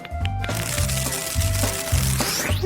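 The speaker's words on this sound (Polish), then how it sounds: "Pokruszę biszkopty i zrobię babeczkę w szklance." Sponge biscuits being crushed by hand for a cupcake layered in a glass, giving a run of dry, crackly crunching bursts in a steady rhythm, close and clear.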